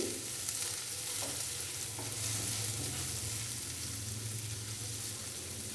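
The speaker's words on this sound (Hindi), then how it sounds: "और प्याज को हल्का सा फ्राई कर लेंगे 1 से 2 मिनट के लिए, ताकि प्याज थोड़ा सा नरम हो जाए।" Finely chopped onion fries in a pan for a samosa filling, a steady close sizzle with scraping stir strokes running throughout, no voices.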